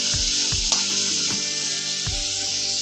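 Steamed green peas land in a hot pan for a Maharashtrian usal, setting off a continuous close sizzle with a few dull thumps of stirring underneath.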